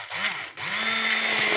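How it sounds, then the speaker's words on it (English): Electric hand beater whirring through tomato soup made with tomatoes, carrots and potatoes, a steady motor drone with a brief dip in pitch partway, close and continuous with no talk. "So I don't have time, so I'm mixing with the beater."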